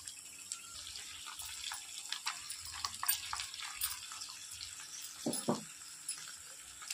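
Prepared paste added to frying chicken ghee roast, a steady soft sizzle in the pan with scattered scraping and stirring knocks, moderately quiet and close, no talking.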